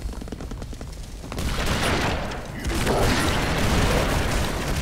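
Shotgun blasts and gunfire in the side-scrolling action game BroForce, dense and loud, building into a continuous barrage of booming shots with rumbling explosions underneath.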